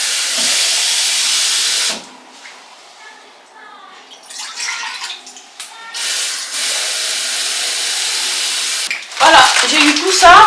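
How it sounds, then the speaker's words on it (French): Water heating toward a boil in a home kitchen gives a steady, loud hissing rush that breaks off briefly, then returns and runs on, with some faint clatter and a short burst of voice near the end. "je fais bouillir de l'eau"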